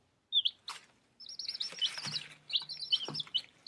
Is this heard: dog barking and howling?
no